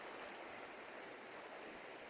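Lost River in Idaho rushes past a dispersed camp spot, a steady broadband wash of flowing water, faint and continuous with no voices.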